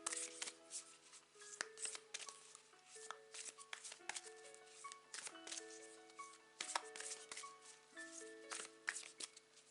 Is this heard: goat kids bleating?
no